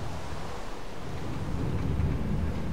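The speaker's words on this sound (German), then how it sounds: "Es regnet, kann man einen Regen ausmachen" Steady rain with low rumbling thunder in the video game Minecraft, a continuous dense wash that swells slightly toward the end, heard alone without talk.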